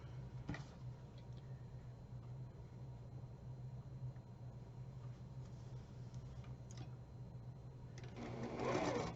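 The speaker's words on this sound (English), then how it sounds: "Now I will sew those rows together, and this block will be done" A sewing machine joining rows of a quilt block, a steady low whirring stitch running continuously at close range and fairly quiet, with a faint rustle of fabric near the end and no speech.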